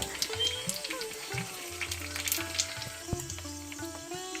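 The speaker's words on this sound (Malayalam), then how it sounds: "അങ്ങനെ നമ്മൾ എണ്ണ ചൂടായപ്പോഴത്തേന് ഈ പപ്പടം എല്ലാം തന്നെ പൊള്ളിച്ചെടുത്തിട്ടുണ്ട്" Papadams frying in hot oil in a village kitchen give a steady crackling sizzle, with a few brief clinks and a faint bubbling undertone throughout.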